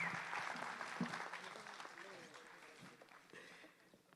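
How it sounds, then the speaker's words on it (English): A crowd at a school's 20th anniversary establishment day event applauds steadily, a dense patter of clapping that slowly fades while voices carry over it. "Can we give a huge round of applause,"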